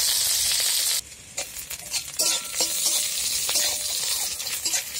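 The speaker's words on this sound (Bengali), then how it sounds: "শাক ভাজার জন্য রসুন আর কাঁচা লঙ্কা" Garlic and green chili frying in oil in a village kitchen, a steady loud sizzle with broadband hiss throughout, interrupted by a few scraping stirs of a utensil in the pan.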